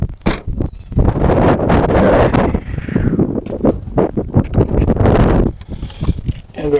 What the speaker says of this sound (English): Ooh, wind's whipping.